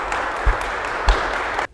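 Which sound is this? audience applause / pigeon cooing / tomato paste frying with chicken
audience applause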